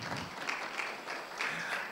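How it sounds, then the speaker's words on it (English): Audience applause fills a law conference hall, a steady, dense wash of many hands clapping at moderate distance for about two seconds, with no voices over it. "you may wish to give yourself another round of applause"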